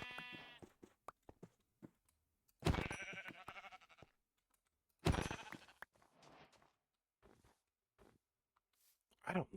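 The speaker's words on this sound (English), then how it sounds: "There's sheep over here." Minecraft sheep bleat in two loud, close cries separated by quiet, with soft clicking footsteps and a murmuring voice around them.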